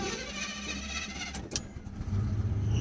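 An old Chevy truck, found abandoned and now on a road trip, cranks briefly and catches, then settles into a low, rumbling idle that grows louder toward the end, heard nearby with no speech.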